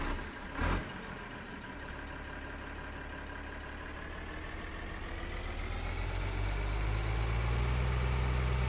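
A tractor engine in the farming game Landwirtschafts Simulator 2013 starts with a short bang, then settles into a steady low idle that slowly grows a bit louder and deeper, heard alone without talk.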